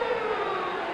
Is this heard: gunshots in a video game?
no